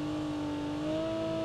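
A vehicle engine in Call of Duty Mobile hums and revs steadily, its pitch holding then stepping higher, moderately loud and alone.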